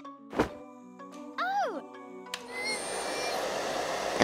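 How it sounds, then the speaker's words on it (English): After a few thumps and tonal beeps, a hair dryer switches on and blows with a steady, noisy rush that continues to the end. "The blow dryer is too strong."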